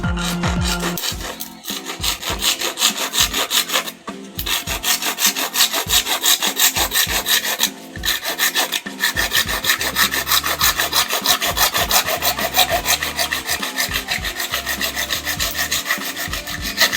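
A handsaw cutting through wood to shape a fishing rod holder, steady rhythmic back-and-forth rasping strokes, close and loud, continuing with brief pauses and no voices.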